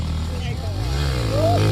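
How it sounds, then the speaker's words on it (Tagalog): A 250cc motorcycle engine revs hard at a motocross triple-jump event, rising and falling in pitch under loud excited voices of people talking nearby. "Ginalit yung motor."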